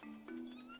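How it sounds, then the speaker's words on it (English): A cartoonish cat meows once in the video game Balan Wonderworld, a short rising, tonal mew heard close and clear with no talking over it. "Meow, meow."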